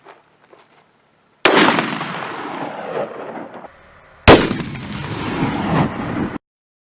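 .500 S&W Magnum revolver firing 300 grain FTX bullets at pumpkins, two sharp, very loud reports a few seconds apart, each trailing off in a long rolling echo.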